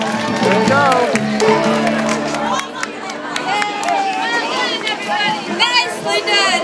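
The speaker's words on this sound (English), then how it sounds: "Give yourselves a round of applause, ladies and gentlemen." Audience at a hoedown dance, with clapping, cheering and excited chatter from a lively crowd mixed with people talking loudly nearby.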